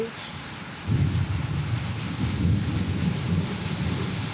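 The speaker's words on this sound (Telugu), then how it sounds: "చల్లగా వర్షం కనిపిస్తుంది అందరికీ" Steady rain pours down in a continuous, dense hiss, with a low rumble swelling in after the first second and holding throughout.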